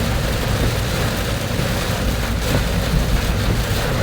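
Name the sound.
heavy rain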